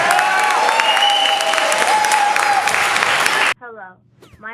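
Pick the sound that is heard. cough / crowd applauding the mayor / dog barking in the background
crowd applauding the mayor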